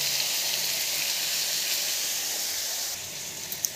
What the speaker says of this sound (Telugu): ఇదిగో ఆనియన్స్ వేసుకుంటున్నాను. ఇవి కొంచెం ఫ్రై అవ్వాలి.